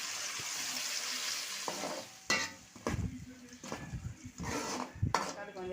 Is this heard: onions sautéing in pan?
yes